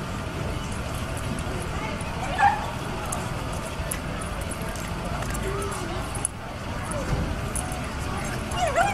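A dog whimpers and gives short yips and barks during a soldier's homecoming. The dog is fairly close but mostly sits beneath people talking excitedly throughout.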